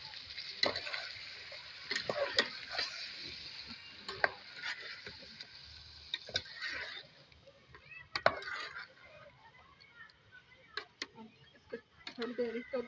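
Onion and tomato frying in a pan for chicken korma, a soft sizzle under frequent stirring clicks and scrapes of a spoon, close and fairly quiet.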